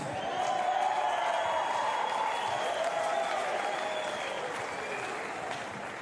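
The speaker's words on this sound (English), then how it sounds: "Keep the applause going for the Saints" Crowd applause and cheering at a men's premier league football grand final, a broad sustained wash of clapping with a voice over the PA carrying through it.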